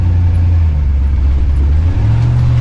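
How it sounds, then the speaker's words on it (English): A Winnebago motorhome engine pulls under throttle, a loud steady low drone that rises slightly in pitch toward the end as it accelerates. "So let's give it a little throttle input,"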